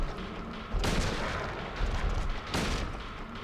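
Gunfire in the horror video game Silent Hill 2, two heavy booming shots about two seconds apart, each followed by a rumbling decay over a low background.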